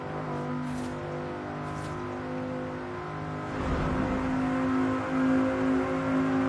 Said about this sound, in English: this car sounds really nice going through this tunnel